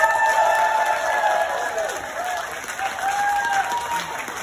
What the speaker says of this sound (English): give them a thunderous round of applause